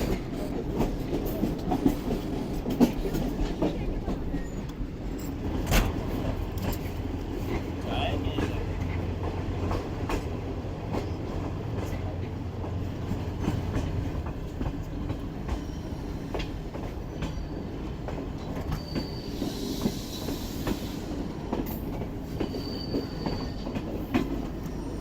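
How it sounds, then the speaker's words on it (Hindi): A passenger train crosses the Kirthar mountain range with a steady, close rumble and rhythmic wheel clatter that lasts throughout, with a brief high squeal near the end. "तो फाइनली ट्रेन हमारी कीर्थन माउंटेन रेंज के ऊपर आ चुकी है।"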